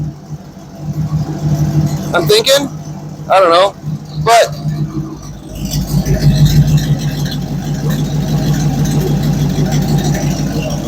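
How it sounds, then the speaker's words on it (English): A car engine fitted with a new front exhaust idles nearby with an uneven, stumbling rumble that rises and wavers, after a few words spoken by a man. "It is stumbling quite a bit there with the idle."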